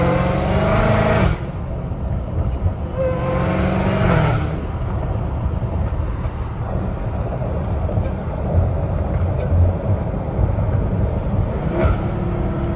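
A catless Dodge Hellcat Redeye V8 roars loudly from the driver's seat, its deep exhaust drone rising as it accelerates and breaking off briefly at automatic gear changes, then continuing under load.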